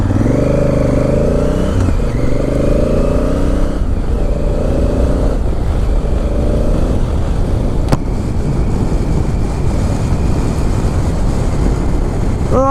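A 2017 Honda Africa Twin motorcycle ridden at night, a loud, steady engine drone with wind rush, rising and falling revs with gear changes, heard from the rider's position.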